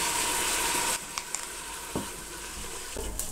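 Meat fries in a single pot with black pepper, mixed spices and salt, a loud, close sizzle that drops sharply after a second to a softer crackle broken by a few stirring clinks.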